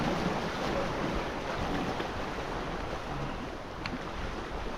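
Sea waves wash continuously onto the beach at Aplaya, Dawis, Digos City, a steady broadband surf roar mixed with wind buffeting the microphone, with no voices heard.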